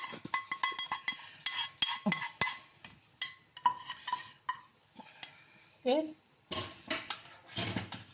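Clattering of a spoon and pot as fried vegetables are scraped and tipped into a soup pot, a series of sharp metallic knocks with brief pauses, and some talking.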